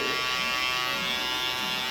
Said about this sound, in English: When I use the shaver, I go all the way straight and remove everything that I created with the T-outliner